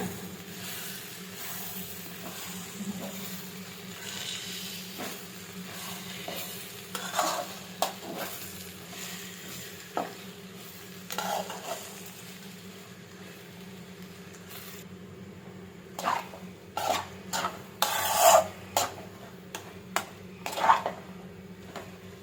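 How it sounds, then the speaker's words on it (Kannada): Egg and cabbage palya frying in a pan is stirred slowly over a low flame, with soft sizzling beneath intermittent scraping strokes that grow more frequent toward the end. "ಈಗ ಸ್ಲೋ ಆಗಿ ತಿರುಗಿಸೋಣ."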